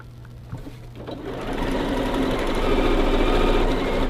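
Sewing machine running steadily as it stitches a seam in a quilt block, a close, continuous whirring hum that builds and holds without pause, with no talking.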